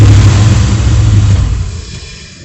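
A 2001 Ram truck engine, under restoration, runs loud and close with a deep rumbling drone that revs briefly, then winds down and fades as it is shut off.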